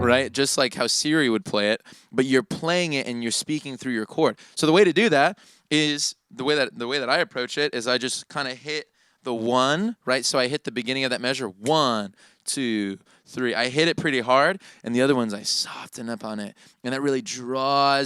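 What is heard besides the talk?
No everyday noises stand out.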